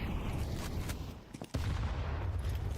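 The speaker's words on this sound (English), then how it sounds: "Oh, the nades are brutal." Grenade blasts and gunfire in a Counter-Strike match at a major tournament, a dense continuous rumble of explosions with a brief drop before a loud burst resumes.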